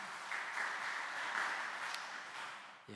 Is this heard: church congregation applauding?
yes